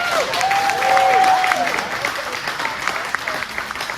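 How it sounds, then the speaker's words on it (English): A concert crowd at the Lawrenceville Distillery applauds its hosts with steady, dense clapping that fills the room, a sharp whistle rising above it early on before the clapping gradually thins. "how about another big round of applause for our generous hosts at the Lawrenceville Distillery"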